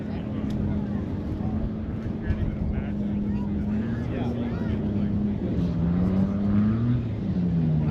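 A short takeoff bush plane comes in to land at a takeoff-and-landing competition, its steady engine drone holding loud and continuous throughout while a commentator talks over it.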